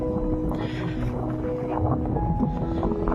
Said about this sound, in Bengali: খুব হাওয়া হচ্ছে